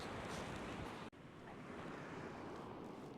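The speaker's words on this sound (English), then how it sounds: "It's a lot windier than I was anticipating it." Wind buffets a shingle shore at Dungeness on a cold night of fishing. It blows as a steady, loud roar with rushing surf mixed in, and a sharp momentary drop breaks it partway through.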